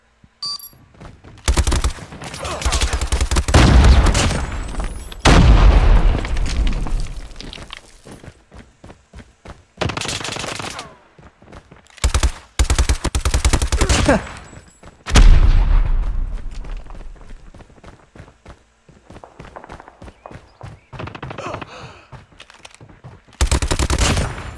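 Gunfire in a video game shootout, with repeated loud bursts of rapid automatic fire separated by short quiet gaps and faint footsteps in between.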